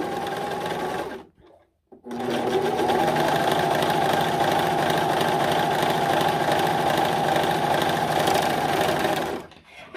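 A Singer S0235 four-thread overlock machine stitches the edge of stretchy knit lycra fabric, a loud, steady mechanical whir with a brief pause near the start before running on continuously.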